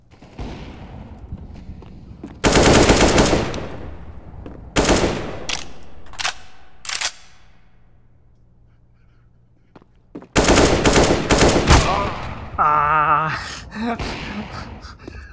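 Bursts of gunfire from Counter-Strike: Global Offensive on the Mirage map in a competitive match, loud automatic volleys at several moments separated by quieter gaps, with a short gasp-like sound near the end.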